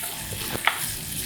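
Cauliflower rice frying in olive oil in a pan: a steady soft sizzle with a brief scrape or stir near the middle, close by, with no talking.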